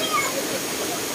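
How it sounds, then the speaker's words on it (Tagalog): Tamaraw Falls on Mindoro Island, a steady broadband rush of falling water, continuous and fairly close. "So, Tamaraw Falls, Mindoro Island."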